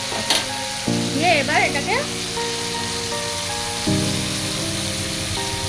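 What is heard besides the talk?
sautéing tomato, chilli and spice paste in a pan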